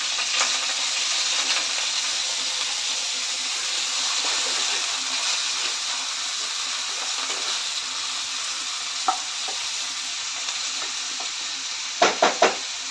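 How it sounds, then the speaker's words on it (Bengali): Onions sizzle steadily in a hot pan for mutton biryani, a continuous broadband frying hiss with occasional spoon scrapes and a few sharp clinks near the end. "আমি এতে পেঁয়াজটা দিয়ে দিচ্ছি পেঁয়াজটা ভালো করে ভেজে নিয়ে"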